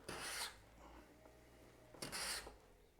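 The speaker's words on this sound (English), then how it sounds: "So this scraper is removing very fine, well, it's almost dust, very fine shavings." Two short rasping strokes of a cabinet scraper drag across the wooden sole of a Japanese kanna plane, close and fairly quiet, separated by a pause of faint room noise.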